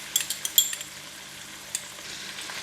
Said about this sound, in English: Now I'm going to increase the heat again. Put in the meatball.